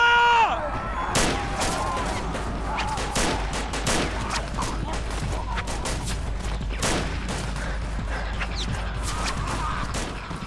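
Sustained volley of gunfire in a zombie film battle scene, dense overlapping shots and bursts cracking loudly throughout, with shouted voices mixed in beneath the firing.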